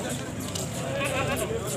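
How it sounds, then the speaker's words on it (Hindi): A large goat bleats at a crowded Taxila livestock market, heard briefly and moderately close among a busy background of voices and crowd murmur. "ये एक बड़ा बकरा आया है"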